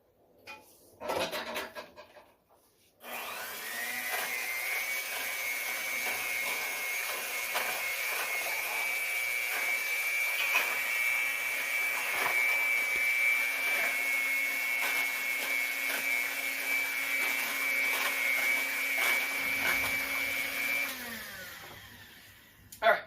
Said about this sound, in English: I'm going to top this off and call this good after I run the mixer one more time